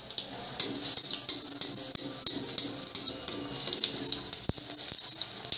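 Potato vada balls dipped in batter and fried in oil, giving a bright crackling sizzle with irregular spits and pops, plus a few clinks and stirring sounds, close and fairly loud.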